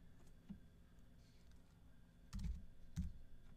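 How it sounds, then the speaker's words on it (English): A few quiet, scattered keystrokes on a computer keyboard while a short filter term is entered in trading software, soft clicks spaced apart over a low background hum. "if I were just to type in"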